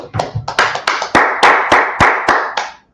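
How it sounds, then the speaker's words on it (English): Hands clapping at a religious class gathering, about a dozen sharp, loud claps in a quick, slightly uneven rhythm, close by and with no talk over them. "Let's clap it up."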